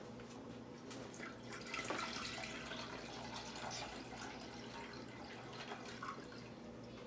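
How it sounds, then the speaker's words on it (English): Thick bone broth, still cold from the fridge, being poured from a container into a pan, a faint, steady liquid trickle over low background hum in a kitchen. "Just gonna pour this whole container in."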